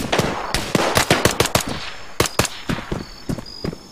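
Rapid bursts of machine gun fire in the video game Arma 3, loud and close, with several sharp volleys crackling in quick succession across the span and a couple of sustained rattling strings near the end.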